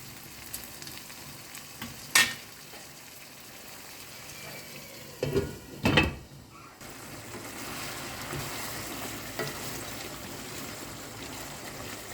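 Chicken pieces frying in a covered pan over a high flame, a steady low sizzle with a few sharper bursts and stirring clatters, close by, no voices.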